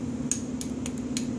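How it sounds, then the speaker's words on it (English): A light hammer tapping metal while seating the recoil strut of a CZ 75 SP-01 Tactical pistol during reassembly: four sharp, close, fairly faint clicks spaced irregularly over a steady background hum. "might have to give it a light tap"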